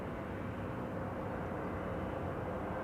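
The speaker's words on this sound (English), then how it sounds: "I hope you guys can also hear the helicopter rotors" Police helicopter at Schiphol airport starting up, its rotors and engine forming a steady, loud broadband roar and whine that holds evenly throughout without talk.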